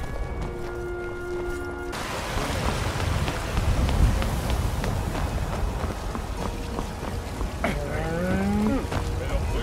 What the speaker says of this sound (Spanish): La otra amiga vaca que me está diciendo gracias.